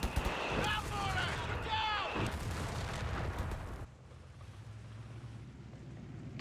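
Suppressive fire in the Company of Heroes 3 strategy game, in a US versus Wehrmacht match: a loud, continuous roar of gunfire and battle noise with voices over it, cutting off abruptly to a quieter low rumble.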